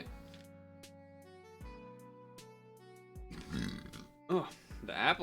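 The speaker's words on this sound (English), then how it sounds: "Oh, the apples really got me burping." Video game demo burps: a sequence of tonal game blips followed by several loud, gravelly belches in quick succession, growing rougher and louder toward the end.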